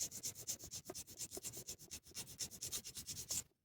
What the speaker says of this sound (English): So now I can go back on the other side and do a little bit of filing.